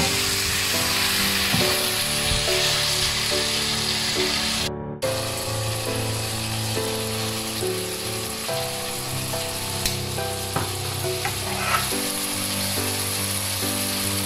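Ingredients for a Sri Lankan fish curry with mango sauté in a pan, a steady close sizzle and crackle running throughout with brief clinks of a utensil.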